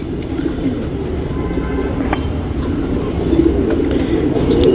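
Breeding pigeons of a racing line coo continuously in a loft, a close, low, rolling murmur from several birds that grows slightly louder toward the end, with no speech.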